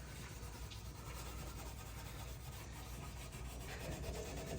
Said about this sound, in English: That's where your steel wool comes in.